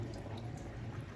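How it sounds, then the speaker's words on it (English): Water leaf greens, a spinach-like vegetable for Nigerian afang soup, swished and rinsed in a bowl of water, a soft continuous sloshing heard close up. "So what are you washing now? Water leaf?"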